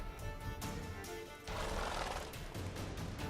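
A horse in The Witcher 3: Wild Hunt gives a drawn-out whinny over steady clip-clopping hooves and game ambience, loud and near, with no talking.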